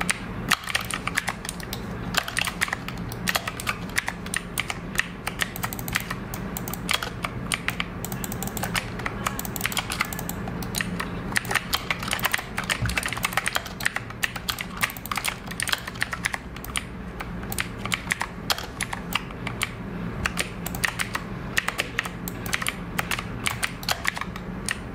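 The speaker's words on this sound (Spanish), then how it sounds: "Os voy a dejar con un clip ahora para que escuchéis cómo se oye en las teclas" Steady, fast typing on a mechanical keyboard with blue switches, a dense run of crisp clicky keystrokes recorded up close with no talking.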